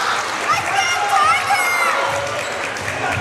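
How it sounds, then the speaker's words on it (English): A crowd cheers in a gym after a good play at a girls' high school district quarterfinal basketball game, a loud, continuous roar of voices and clapping with a few shrill shouts above it. "the New Lex crowd appreciates it across the way"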